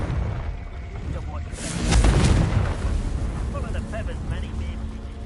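A Confringo blast spell goes off in a Harry Potter video game: a single loud, roaring burst about two seconds in, swelling over a low rumbling background and fading into a softer crackling tail.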